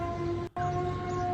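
A siren wails after an explosion in Lahore, a steady sustained tone that cuts out for an instant before resuming.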